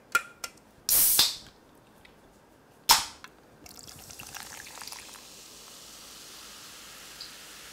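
A cola can cracks open with a sharp hiss and a second snap. Then comes a soft, steady fizzing pour that runs for several seconds, close and fairly quiet.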